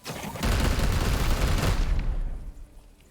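Heavy gunfire in the video game Warhammer 40,000: Chaos Gate - Daemonhunters, a loud sustained volley of rapid shots lasting about two seconds, then fading into a rumbling tail.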